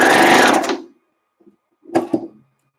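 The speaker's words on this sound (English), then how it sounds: "I can start sewing." A sewing machine stitches flared knit pants in a short, loud whirring run that dies away within a second. After a brief pause, a softer second burst of mechanical stitching follows.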